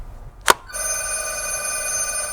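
A telephone bell rings out loudly and steadily after a sharp bang on an indoor firearm training range, its bright sustained tone filling the rest of the moment with no talking.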